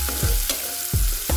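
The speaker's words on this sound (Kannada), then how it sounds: "ನೋಡ್ರಿ, ಚೆಂದಾಗಿ ಎಲ್ಲ ಮಿಕ್ಸ್ ಮಾಡ್ಕೊಳಕತ್ತೀವಿ." Tomatoes being stirred into masala frying in a pan for Uttar Karnataka sev masala, a steady loud sizzle with several distinct scraping stir strokes, no voices.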